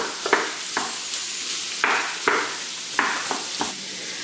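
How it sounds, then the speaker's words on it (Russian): Potatoes and onion sizzle over medium heat in a frying pan, with regular scraping stirs every half second or so, close and continuous without speech. "И обжарим до готовности картофеля и лука."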